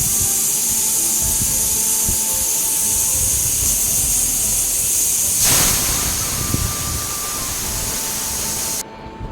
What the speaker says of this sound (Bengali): তারপরে একটু সিটি লাগাই দেবো